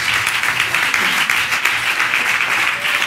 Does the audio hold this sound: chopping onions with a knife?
no